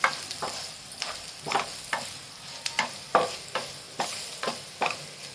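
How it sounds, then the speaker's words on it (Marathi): Kashmiri red chilli powder being stirred into a peanut and raw mango chutney mixture in a pan: a quiet sizzle broken by about a dozen rhythmic scraping strokes of a spoon, close and unaccompanied by speech. "आता याच्यात काश्मीरी लाल तिखट टाकायचं एक चमचा चांगलं हलवून घ्यायचं"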